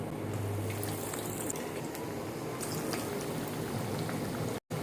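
Egg cutlets coated in potato batter shallow fry in hot oil, giving a soft, continuous bubbling sizzle at low volume with a few faint clicks and a brief cut near the end.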